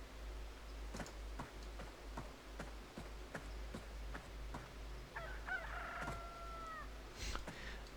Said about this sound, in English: That is a very stark chicken sound.